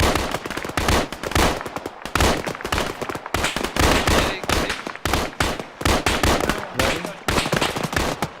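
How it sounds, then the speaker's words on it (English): Sustained automatic fire from an emplaced weapon during a counter-ambush training exercise, loud rapid bursts with brief gaps, cracking close by and echoing. "I think we have an emplaced weapon there"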